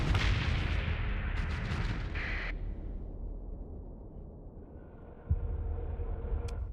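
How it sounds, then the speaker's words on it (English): Deep, booming explosions in the space game Starsector roll and rumble continuously, loud and close, then die down before one more sharp blast hits near the end. "It's hard to tell with all the explosions going on."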